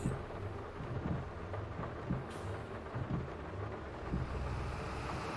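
Steady rain falls with a low rumbling of thunder in the farming video game Farming Simulator 22, a dense continuous wash of sound with no talk over it.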